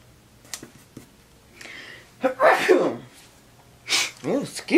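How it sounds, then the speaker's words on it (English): A person sneezes once close to the mic partway through, a sharp burst with a breathy intake before it, amid quiet rustling and brief speech. "I did not mean to sneeze all in your ear like that."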